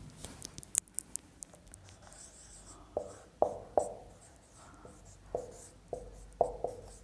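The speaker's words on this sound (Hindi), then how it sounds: "चलिए इधर लिखते हैं" Chalk or marker strokes on a classroom board during a chemistry lesson, a run of short scratchy taps and scrapes spaced irregularly, fairly close and alone with no talking.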